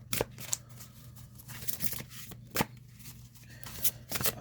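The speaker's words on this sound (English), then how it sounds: "This isn't that bad a shuffle." Tarot cards being shuffled by hand, a string of crisp riffling bursts with short pauses between them, close and fairly quiet over a low steady hum.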